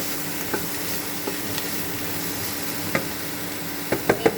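Ghee sizzles in a pan of broccoli, a steady close hiss with a few light clinks and scrapes of stirring, growing busier toward the end.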